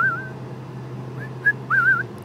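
A person whistles a few short melodic phrases, wavering and sliding in pitch, close by over a low steady hum, with pauses between.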